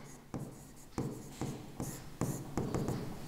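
Chalk or a marker writes on a board in short strokes, several quiet scratching bursts separated by brief pauses, with no talking.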